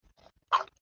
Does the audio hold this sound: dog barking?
yes